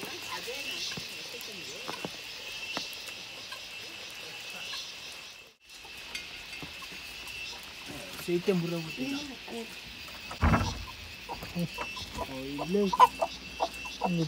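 Chickens cluck in bursts on a poultry farm where guinea fowl are also kept, the calls rising toward the end, with a steady high hum and a person talking intermittently.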